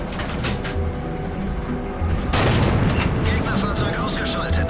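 A tank's main gun fires in World of Tanks, a Pz.Sfl. IVc tank destroyer, as a sudden loud boom midway that stays heavy and rumbling against steady battle noise and mechanical clatter.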